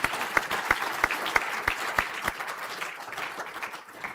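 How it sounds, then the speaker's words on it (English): Audience at a university conferring ceremony giving a round of applause, with several sharp individual claps standing out near the front before the clapping thins and fades toward the end. "And we shall give Lucas a round of applause also."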